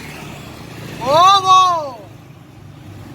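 A freshly tuned Yamaha RX King motorcycle with a 30 mm carburetor gives a single quick throttle blip whose pitch rises and falls within about a second. Low background noise and a brief exclamation surround it.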